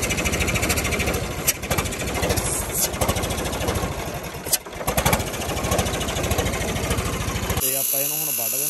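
A turbocharged 855 diesel engine running just after a turbo fitting, a steady dense rattling clatter that holds loud throughout, with a brief shift in tone near the end.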